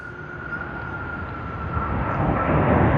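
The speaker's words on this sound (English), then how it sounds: "it's wonderful to see this aircraft come in" A jet airliner arriving from Dubai at Sydney Airport roars steadily and grows louder over a few seconds, a broad rumbling engine noise with a thin whine riding on top, heard outdoors with no talk.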